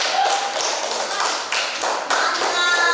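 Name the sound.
applause for group 1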